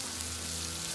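Butter sizzles and fries steadily in a discada over the heat, making a close, continuous hissing crackle with no talk.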